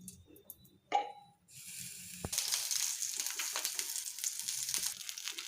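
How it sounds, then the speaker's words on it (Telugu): Green chillies hitting a tablespoon of hot oil, a short clink then a burst of bright sizzling that settles into a steady, close crackle for several seconds, alone without speech. "మిర్చి ఫ్రై అయిపోయాయి కదండి."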